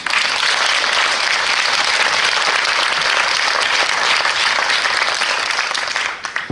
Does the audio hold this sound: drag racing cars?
no